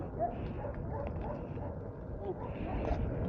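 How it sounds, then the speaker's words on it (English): A loose dog whimpers and gives a few soft yips, close by and fairly quiet, mixed in with someone talking over a steady background rumble. "there's a loose dog."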